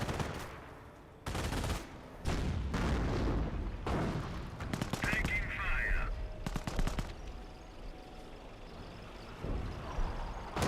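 Explosions and bursts of machine-gun fire from airborne squads in the Company of Heroes strategy game, loud clustered blasts and rattling volleys in the first seven seconds, fading to a quieter rumble.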